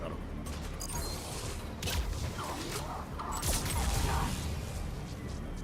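An explosion in Mass Effect 3 shooter combat rumbles amid scattered gunfire and crashing debris, a loud, dense burst of noise rising and falling across the stretch.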